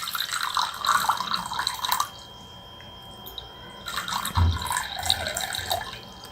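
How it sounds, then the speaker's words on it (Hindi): Water splashes into a pair of glasses in two separate pours, each a couple of seconds of close, bright trickling with a quiet gap between them. "ये देखने के लिए हम दोनों गिलास में थोड़ा सा पानी डालेंगे।"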